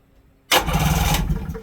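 The port engine of a 1996 Sea-Doo Speedster twin-engine jet boat cranks and catches after a short silence, then runs at a loud, steady rumble before easing off.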